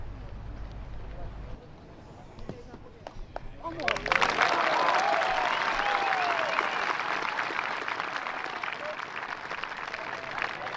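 A large crowd at a disc golf world championship final round bursts into loud sustained applause and cheering after a quiet stretch with a few scattered claps, carrying on for several seconds.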